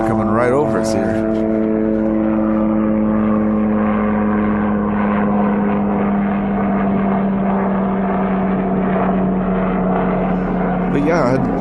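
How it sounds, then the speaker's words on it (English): A steady, loud droning engine hum with strong tonal layers holds throughout, like a helicopter passing close overhead. "There's a helicopter coming right over us here."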